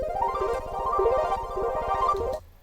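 Square-wave synth arpeggio sample pitched an octave down, drenched in heavy reverb and delay, cycling quickly in a steady repeating pattern over a pulsing low end before cutting off.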